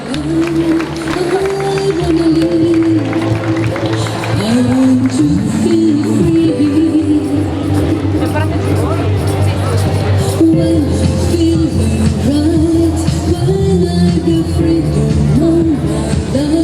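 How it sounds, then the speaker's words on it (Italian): A crowd at the Palio das Cjarogiules 2025 cheers and applauds as a contrada is welcomed, a dense, loud wash of noise that runs throughout beneath a steady, amplified announcer's voice. "Un grande applauso per Casali Sega, il Granducato"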